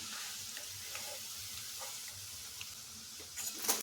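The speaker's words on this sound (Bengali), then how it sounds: "এই যে আওয়াজ শুনে বোঝা যাচ্ছে মুচমুচ করছে।" Chhana (cottage cheese) pieces fry crisply in hot oil for a dessert, giving a steady, soft sizzle with a few faint clinks and a slightly louder burst near the end; no one speaks.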